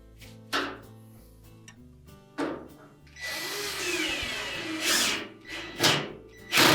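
A retaining screw is driven with a power drill into the drawer glide of a Frigidaire range, heard as a few short whirring bursts and a longer sustained drilling run, fairly close and loud with no talking.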